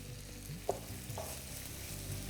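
Two medium onions, thinly sliced, fry over a high flame in hot white oil, giving a steady sizzle broken by a few soft scrapes as they are stirred.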